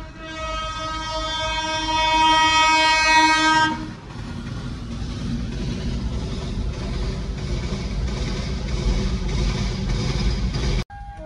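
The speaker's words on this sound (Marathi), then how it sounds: "2 रेल्वे होत्या" A loud train horn blares for a few seconds at a railway crossing, then a heavy rumble and clatter of rail cars from two trains rolling past continues close by.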